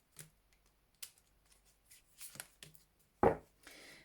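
Tarot cards are shuffled and drawn from the deck close by, with soft flicks and slides, then a sharp snap of a card being laid down, quiet gaps between, and no talking.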